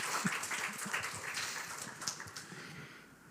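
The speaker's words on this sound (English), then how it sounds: "please join me in giving them, our panelists, a warm round of applause" Audience applause for panelists at a medical AI in clinical diagnostics conference: a dense, even wash of many hands clapping, fairly faint and distant, holding steady for a few seconds before thinning out near the end.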